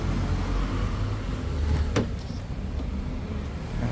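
A car engine runs at idle after a top overhaul and timing belt replacement on a vehicle with 96k on the odometer, giving a steady close rumble with a brief sharp click partway through and no talk.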